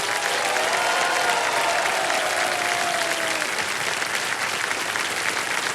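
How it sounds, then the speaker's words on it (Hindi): Loud, sustained applause from a studio audience on the Indian game show Kaun Banega Crorepati season 17, a dense wash of clapping that fills the whole stretch and eases slightly toward the end. "इतनी जोर से ताली बजी है"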